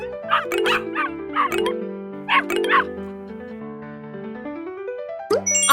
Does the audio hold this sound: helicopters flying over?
no